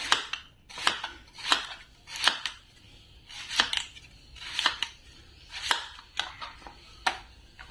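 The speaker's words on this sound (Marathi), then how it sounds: "आधी आपण कलिंगड कापून घेऊया" A knife slices through watermelon on a cutting board, about ten crisp, evenly spaced cuts in a steady rhythm, close and clear with no talking.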